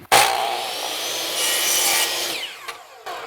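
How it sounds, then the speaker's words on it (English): A chop saw cuts quarter-round trim during a laminate or vinyl flooring install. The blade snaps to a loud start, then gives a continuous close whine with a rasping bite through the wood for about two seconds before spinning down. "In this situation, I'm going to use the chop saw."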